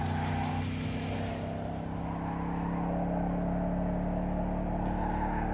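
A car in Cyberpunk 2077 drives along with a continuous engine drone and a strange tonal whine from the steering, steady and unbroken throughout.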